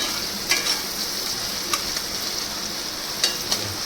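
Onions fry in a pan with a steady close sizzle, broken by a few light scrapes and clinks as they are stirred.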